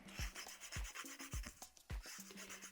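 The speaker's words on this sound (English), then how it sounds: "I'm going to use this 180 grit just to take down this length" Coarse 180 grit nail file rasping down the length of acrylic nails, a run of brisk scraping strokes in a steady rhythm, close and fairly loud with no talking.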